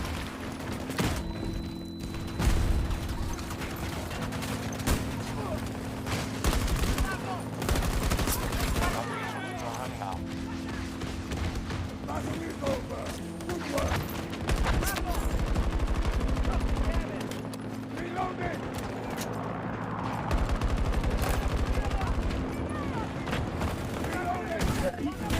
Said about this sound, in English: Our troops are attacking Delta 1. Let's fire into the dust.